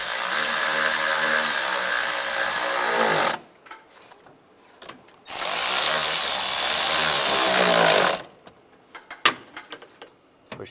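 A power tool runs in two long buzzing bursts of several seconds while tightening bolts on a 2007-2013 Chevy Silverado engine, close and loud, separated and followed by quieter clicks and handling noises.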